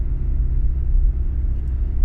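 Deep, steady car exhaust rumble comes through the muffler. It holds a continuous low drone close by for about two seconds, with no talking.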